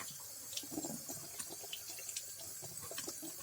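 Tap water splashes steadily over a small toy under a running faucet, a quiet continuous trickle with faint bubbling and no voices.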